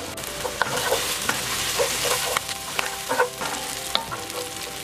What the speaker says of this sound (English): just keep stir frying your onions until they're cooked